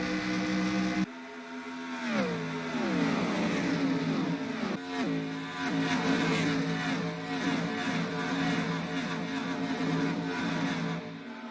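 NASCAR stock cars race at Indianapolis Motor Speedway, engines roaring loudly and steadily as cars pass close by, pitch sliding down as they sweep past, with overlapping engine drones throughout.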